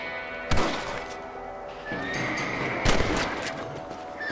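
Rifle shots while hunting in the western game Red Dead Redemption, two sharp loud cracks about two seconds apart over ambient outdoor sound, with a horse whinnying in between.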